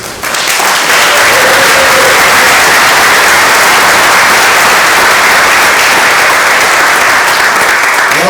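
Sustained, loud audience applause for the class of 2025 Athletic Hall of Fame inductees at a high school athletic awards ceremony, dense steady clapping from a large crowd filling the whole stretch.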